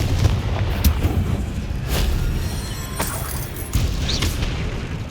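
Confringo spell blasts in Hogwarts Legacy, a fantasy video game, heard as a few loud booming explosions that repeat roughly every second over a dense, rumbling battle din.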